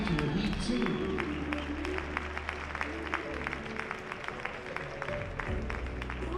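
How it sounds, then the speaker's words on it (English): Applause from a ballroom dance competition crowd at the Ohio Star Ball in Battelle Hall after a heat, steady clapping throughout with a voice speaking over it and music in the background. "Nice round of applause for Heat"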